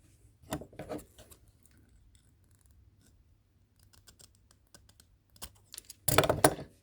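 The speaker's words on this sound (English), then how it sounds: "So I'm going to trim this little piece off here." Scissors snip through a short piece of ribbon while a medal ribbon bar is made up, a couple of small cuts early on and a louder, crisp burst of snipping near the end, close and otherwise quiet.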